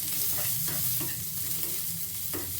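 Ginger and garlic frying in a pan for a spiced paya soup, a constant close sizzle with faint stirring taps scattered through it, no one speaking.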